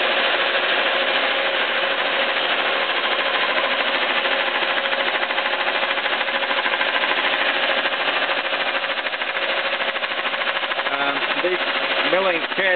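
A 6T10 milling machine with a Sandvik cutter head grinds steadily into a 110cc Chinese motorcycle engine head with coolant running, giving a loud, continuous dense machining roar that holds unbroken throughout.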